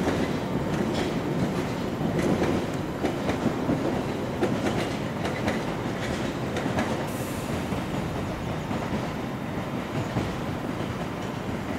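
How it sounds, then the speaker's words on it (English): An empty, out-of-service London Underground Piccadilly line train pulls out of Cockfosters terminus toward Heathrow Airport, a steady rumble with rail clatter and faint wheel squeal running throughout, fairly close, with no talking. "we got the other train leaving for Heathrow Airport"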